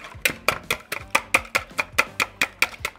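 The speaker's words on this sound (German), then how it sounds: "Die werden da jetzt einmal schaumig gerührt." Organic eggs are whisked by hand until foamy, giving quick, even clinking strokes of about four per second. Close and clear, with no talking.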